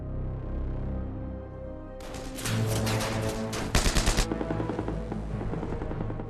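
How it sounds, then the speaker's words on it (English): Bursts of rapid automatic gunfire rattle out over a low rumbling background, with a quick volley of sharp shots near the end. "Woken by the sound of gunfire from the castle's gatehouse"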